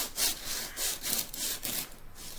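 Coarse 60 grit sandpaper rubs over a paper mache turkey in several quick rhythmic back-and-forth strokes, a close, gritty scratching with no voices.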